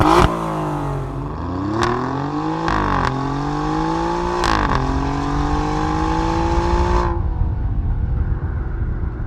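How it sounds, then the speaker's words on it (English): Alfa Romeo Giulia Quadrifoglio with an Akrapovic titanium exhaust revving hard, a loud close engine note climbing in several rising sweeps with sharp throttle blips, then dropping to a low idle rumble. "here's what the titanium exhaust sounds like for the regular Quadrifoglio"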